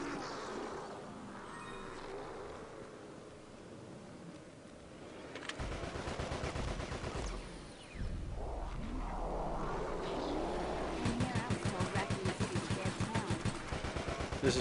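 Gunfire in Resident Evil: Operation Raccoon City, a third-person zombie shooter: scattered shots, then bursts of rapid automatic fire growing denser and louder toward the end, over game ambience and engine-like rumble.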